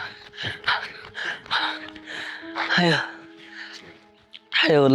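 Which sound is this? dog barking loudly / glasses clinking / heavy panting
heavy panting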